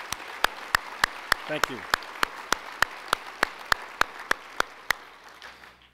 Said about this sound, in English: Let's give Jim a great round of applause